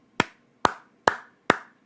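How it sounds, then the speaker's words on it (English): Four sharp hand claps, evenly spaced about half a second apart, each ringing briefly in a small room, with no voices. "We got to clap it up, y'all"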